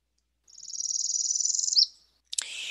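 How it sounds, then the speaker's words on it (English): Alone and clear, a northern parula sings a quickly pulsed buzz that climbs like a zipper and snaps into a short accented note, followed after a pause by a brief burst of sound. "northern Perula. I kind of describe this as a zipper."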